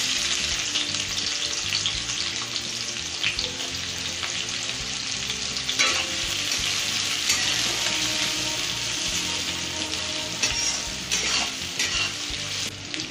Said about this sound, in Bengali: 4 টেবিল চামচ সাদা তেল দিয়ে দিয়েছি। একটা বড় সাইজের পেঁয়াজ কুচিয়ে দিচ্ছি।